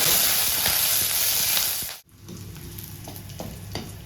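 Garlic cloves and curry leaves fry in a pan for a Mangalorean prawn sukka, giving a steady loud sizzle that cuts off abruptly midway, then returns as a quieter crackle with faint stirring clicks.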